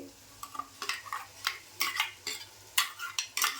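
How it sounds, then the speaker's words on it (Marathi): Ground masala paste being stirred into frying oil in a pan for Maharashtrian shev bhaji, with repeated scraping stirs and a soft sizzle at close range. "वाटण टाकून पण जरा ढवळून घ्यायचं 2 मिनिटासाठी."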